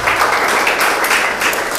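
A church congregation at a revival service in a hotel in Banjarmasin claps and cheers in a steady, dense wash of applause, close and loud for the whole moment.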